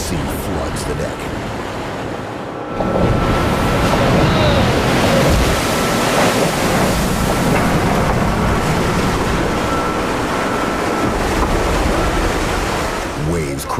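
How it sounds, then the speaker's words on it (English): Heavy seawater roars and churns across the open stern ramp and deck of a fishing boat in a full gale in Antarctic waters, a loud continuous wash with a surge after the first few seconds and voices faintly beneath. "Waves crashing over the stern can easily sweep a crew member into the icy, churning sea"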